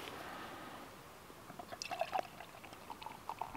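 Dark porter beer is poured into a cup, giving soft liquid gurgles and splashes that pick up toward the end, faint and close with a quiet background.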